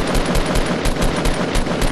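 Rapid bursts of automatic gunfire from the video game Fortnite, loud and close, firing in a steady rhythmic stream of repeated shots with no talking.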